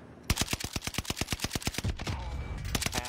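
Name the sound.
gunfire from a submachine gun in a video game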